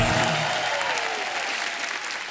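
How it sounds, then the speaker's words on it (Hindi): A studio audience at a Hindi comedy talk show applauds in a dense, steady wash of many hands clapping together, close and full, slowly easing toward the end, while a brief whistle-like tone drifts over it. "जोरदार तालियां हो जाएं।"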